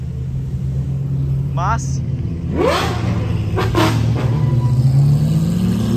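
A car's exhaust roars as the engine revs, with a rising surge in the middle and a deep rumble throughout, loud and close, while people talk over it.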